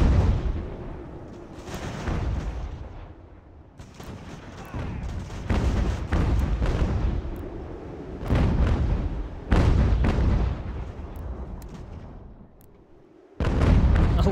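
Cannon and artillery fire booms across a British invasion of New York battle in Ultimate General: American Revolution, a long run of loud, overlapping blasts and volleys with brief lulls, continuing to the end.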